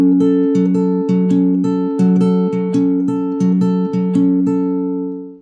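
Fingerstyle acoustic guitar plays a syncopated picking pattern, a steady run of plucked single notes over sustained lower tones, close and clear with no talking.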